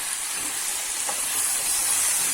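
Borlotti beans sautéing in a hot pan give off a steady, broad sizzling hiss that holds evenly throughout, with no voices over it.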